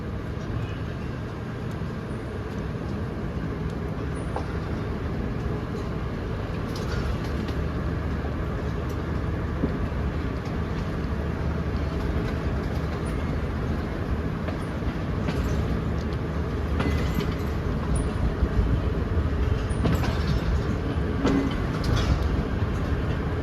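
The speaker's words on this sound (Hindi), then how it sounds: "डिपार्च हो चुका है जी 10 डाउन इलामा इकबाल एक्सप्रेस का Sialkot railway junction platform number 1 से" The Allama Iqbal Express 10DN pulls out of Sialkot railway junction from platform 1, a steady low rumble and rolling clatter continuing without a break, heard from on board.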